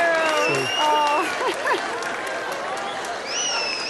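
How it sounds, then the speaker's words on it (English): A crowd cheers and applauds to welcome the mayor: steady, loud clapping with whoops and whistles, while voices talk over the noise throughout. "Everybody's cheering the mayor."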